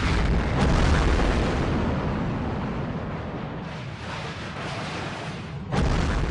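A hydrogen bomb explosion rumbles as a deep, sustained roar that stays loud and dense throughout, swelling slightly at the start and again near the end, with no voices.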